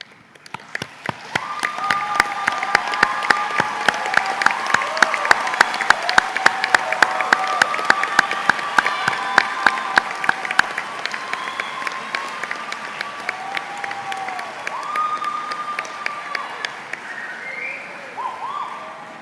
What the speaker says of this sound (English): join me in a round of applause to say thank you to those who've helped you reach this important milestone